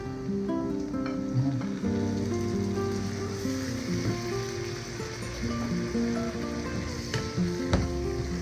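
Tomatoes sauté in a pan for bopis, an Ilocano dish of beef lung. A steady crackling sizzle runs under faint background music, with a few brief pops and taps.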